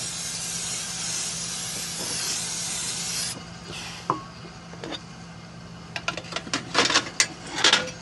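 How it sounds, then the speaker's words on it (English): Cooking oil sprayed onto a sanded Weber Q grill grate, a long loud spray hiss that stops, followed by scattered clicks and short bursts of sizzle or spray near the end. "let's go ahead and get some cooking oil on here"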